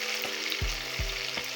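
Sliced onion sautéing in a pan for a simple beef curry, a steady close sizzle with low thumps and scrapes from stirring, no voices.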